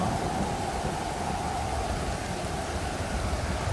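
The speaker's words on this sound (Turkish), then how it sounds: "Bu ne biçim yağmur, bu ne biçim efek" Heavy, steady rain in the video game Stranded Deep pours down in a dense, constant hiss with a low rumbling undertone, uninterrupted and with no voices.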